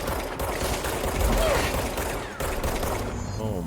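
Rapid bursts of gunfire in the video game Control crack out in a loud volley with mechanical clatter, while someone talks over parts of it.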